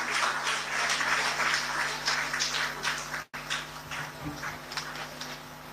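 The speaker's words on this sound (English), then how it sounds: "Huge round of applause for Soumya." Crowd at an annual school celebration prize distribution clapping for a child named Soumya; scattered, moderately dense applause with a brief dropout midway, heard from a distance.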